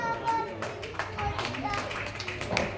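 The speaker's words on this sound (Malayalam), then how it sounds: "നല്ല ക്ലാപ്പ് കൊടുക്കണം" Scattered clapping from people at an office Onam celebration welcoming a new colleague, light and fairly faint, with voices and children's chatter mixed in.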